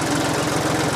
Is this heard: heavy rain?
no